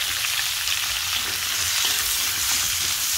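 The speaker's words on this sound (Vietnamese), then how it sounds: "cho khóm cho mình xào cho thơm luôn khóm trước đi cho nó ra nước nó thơm á" Continuous loud sizzling and frying as pineapple and garlic are stir-fried in a pan, a dense steady hiss with occasional stirring scrapes and no voices.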